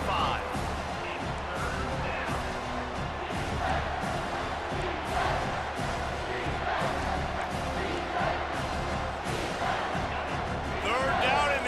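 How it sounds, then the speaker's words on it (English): Loud, dense roar of a college football stadium crowd at a Georgia Southern versus Clemson game, sustained throughout with surges and shouts layered over the din. "this crowd is tearing the lid off this place"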